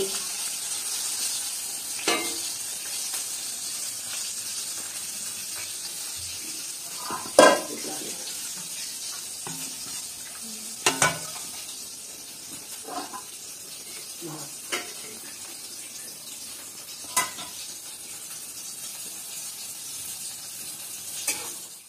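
Fish and fish belly frying in a pan produce a continuous, moderate sizzle with scattered clinks of utensils against the pan and a few sharper knocks.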